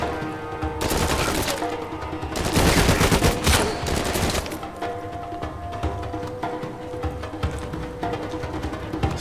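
Dense gunfire fills a firefight in the video game Uncharted: A Thief's End, with rapid bursts and volleys of shots overlapping continuously and loudest in the middle, without pause.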